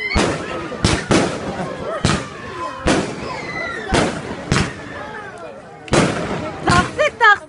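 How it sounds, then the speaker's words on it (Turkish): Wedding fireworks go off outdoors in a series of about seven loud, sharp bangs at irregular intervals, each followed by a crackling, whistling tail, with people talking in between. "Taksit taksit geliyor bizim havai fişek."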